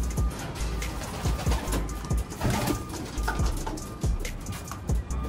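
Soft, repeated pigeon coos in a steady rhythm, with light rustling and scattered taps in the background, no talking.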